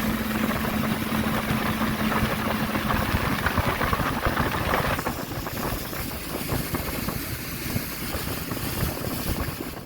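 A boat engine idles with a steady rumble and a faint whining tone, wind noise buffeting throughout.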